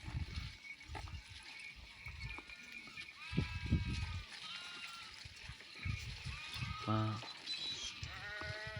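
Sheep bleat several times at a moderate distance as a ewe gives birth to a lamb, wavering calls rising over quiet rustling and low background sounds, with one sharper bleat near the end.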